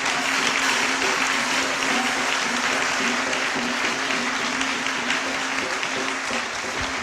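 Applause from a church congregation, dense and steady throughout with a faint low hum beneath, loud and close with no voices standing out.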